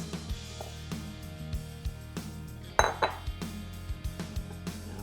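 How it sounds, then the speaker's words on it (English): Pumpkin cupcake batter with milk being mixed in a bowl, a steady run of clinks and knocks of a utensil against the bowl, fairly close, with one sharper clatter near the middle and no talk. "we'll mix this up for a little bit now"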